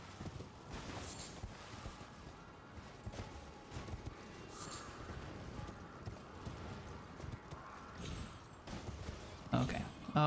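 Horse hooves in the video game Elden Ring, a continuous clip-clop of galloping strides under a player talking, with a busy background of game sound.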